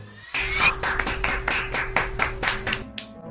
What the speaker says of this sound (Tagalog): Romano, salubungin na palakpak na mainit.